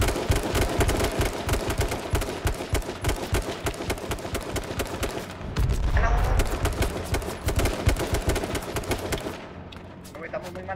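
Rapid bursts of automatic gunfire in the video game H1Z1: King of the Kill crackle almost nonstop, loud and close, with heavier blasts midway and a voice briefly heard under the shooting.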